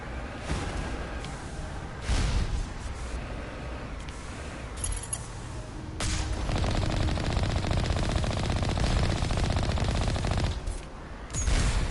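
Turrets fire in the video game Mass Effect with dense, sustained machine-gun bursts, loud and continuous, broken by brief pauses and sharper shot impacts throughout.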